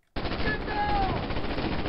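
Enemy gunfire in Call of Duty: United Offensive starts abruptly as a loud, sustained burst of rapid machine-gun fire, close and continuous to the end.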